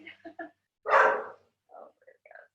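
A dog barks outdoors at a distance, a few short yips followed by one louder bark and softer trailing calls, heard alone without talk.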